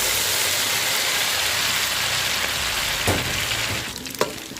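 Beaten egg hits warm, not yet very hot oil for a tom yum omelette and sizzles in a loud, steady frying hiss, with a couple of faint utensil clicks near the end.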